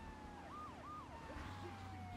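Police siren from GTA III (Definitive Edition), wailing up and down in repeated sweeps over steady traffic and engine rumble, fairly distant and moderately loud throughout.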